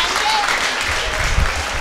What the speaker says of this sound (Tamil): நல்லா ஒரு வாட்டி கைத்தட்டுங்க